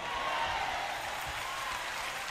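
A church congregation claps steadily through a sermon, a dense, continuous wash of applause with a faint murmur of the crowd beneath it.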